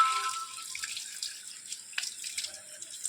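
Water sprays forcefully onto a battery during cleaning, producing a steady hissing rush with scattered splashes and drips, heard close and fairly quiet.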